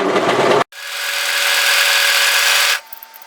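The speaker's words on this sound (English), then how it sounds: "Take your overlocker and just overlock tidy that top edge." An overlocker sewing machine overlocking the top edge of a cargo pocket: a brief burst, then a steady, loud, close mechanical whir for about two seconds before stopping.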